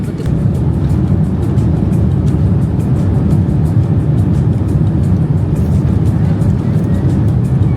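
A passenger flight touching down in Australia, heard from inside the cabin as a loud, steady, unbroken engine and airflow roar.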